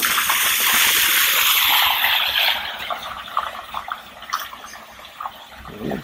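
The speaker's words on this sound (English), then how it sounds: "we better get a vehicle come through the ford" A vehicle splashing through a shallow river ford in a village, a loud gushing rush of water for about two seconds that then fades into lighter trickling and spatter.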